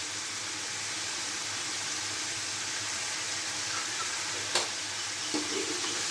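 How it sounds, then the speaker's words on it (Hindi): Spices and mutton frying in a pan for a salted Peshawari mutton dish, a steady close hiss and sizzle throughout, with a couple of faint clinks near the end. "इसे 4 मिनट से अच्छे से भून लें मसालों को"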